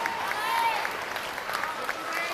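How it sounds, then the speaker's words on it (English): Audience applause at a youth fair livestock show, moderately loud and sustained, mixed with crowd noise and voices over a public address. "Give them all a real nice round of applause as they go back"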